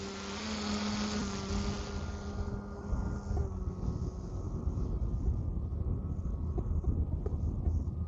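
An E-Flite Piper Cherokee 1.3m radio-controlled model airplane taxiing, its steady electric motor whine droning close by and then easing to a lower, rougher hum, alone without talk.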